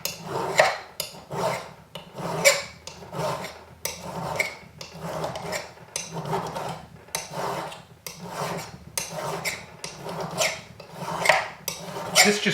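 Metal bangle ends being filed and sanded by hand, a steady series of rhythmic rasping strokes, close and clear, repeating about every half second with no talk.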